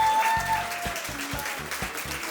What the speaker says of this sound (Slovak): Poprosím o veľký potlesk.